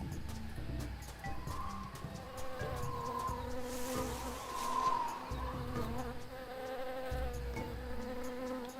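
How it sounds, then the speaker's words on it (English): Continuous insect buzzing like flies or bees in an outdoor area of the video game Tales of Monkey Island, steady and moderately loud over low ambient game music, with no talk. "You're so bothered by the buzzing fly sound."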